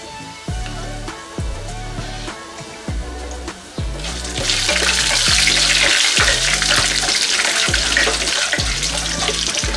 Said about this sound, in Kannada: ಲೋ ಫ್ಲೇಮಲ್ಲೇ ಇಟ್ಕೊಂಡು ಇದನ್ನು ಹುರ್ಕೊಳ್ಳೋಣ.